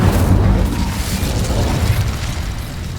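An Incendio fire spell in the game Hogwarts Legacy lets out a loud, rumbling burst of flame that roars steadily and fades slowly.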